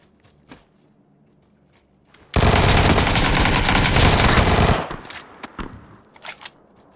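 A Vector submachine gun in PUBG unleashes one loud, sustained burst of rapid automatic fire lasting about two and a half seconds, preceded and followed by faint clicks and scattered quieter sounds.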